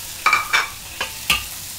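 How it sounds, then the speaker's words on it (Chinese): Dried anchovies hitting hot oil for Malay kampung-style fried rice, with a few short sizzling bursts and stirring scrapes close by, spaced out over a brief moment. "我们先爆这个江鱼仔，很快的啊"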